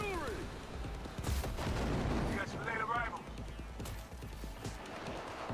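Heavy artillery fire in Cyberpunk 2077 comes as repeated low booms and sharp gunfire bursts over a rumbling game soundscape, with a voice talking faintly underneath.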